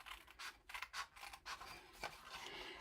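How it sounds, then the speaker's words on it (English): Scissors snip and slide through paper in short close strokes, a quick run of crisp cuts while crafting a paper Easter box, with no talking. "I am going to cut from this side all the way down to this part here"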